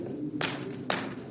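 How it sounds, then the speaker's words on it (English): Two sharp hand claps spaced about half a second apart ring out close and clear over a low room hum, with no talking. "When I clap my hands twice, you're going to stand up and dance with me."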